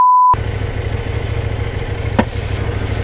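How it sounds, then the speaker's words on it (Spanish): A CFMoto 800 MT motorcycle rides along a highway, its engine droning steadily under rushing wind noise after a short tone at the start, with one brief sharper sound partway through. "vamos a ver qué tal va esta moto en autovía"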